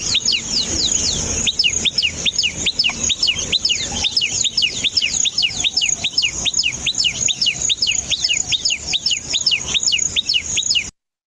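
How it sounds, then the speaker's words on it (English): A common tailorbird calls loudly and nonstop, a rapid run of sharp, repeated chirps at an even rhythm, close and clear with little else around. "Here's the call of the common tailor bird."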